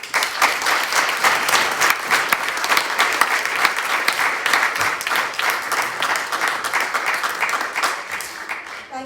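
Sustained, dense clapping from a crowd at the Edinburgh, Lothians and Borders May Day Rally 2025 fills the whole stretch, loud and steady without letting up.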